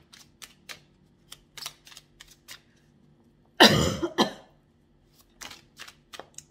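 A person coughs once in a short, fairly loud burst with a weaker follow-up, set among soft scattered clicks and rustles in an otherwise quiet room.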